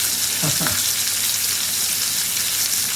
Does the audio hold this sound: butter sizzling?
yes